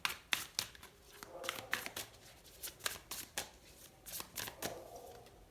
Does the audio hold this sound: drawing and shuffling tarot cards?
yes